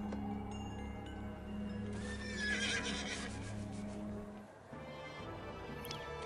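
Horses whinny and neigh in the ancient Greek city-building game Zeus, with hoof clip-clops over a steady ambient game soundscape and background music, moderately quiet.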